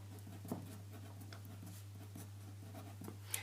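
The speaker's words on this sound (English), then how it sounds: "What I'll do is I'll write up SOHCAHTOA." A pen scratches out letters on a board during a trigonometry lesson, faint intermittent strokes and taps over a low steady hum, no talking.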